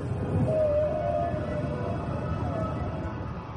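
A whale calls underwater beneath a stealth submarine, a faint, drawn-out tonal moan that rises slightly and sits over a low, rumbling ocean hum.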